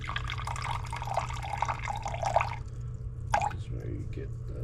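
Water pours steadily into a bowl for cranberry orange sourdough dough, a continuous trickle over a low hum that stops after a few seconds, followed by a couple of faint drips.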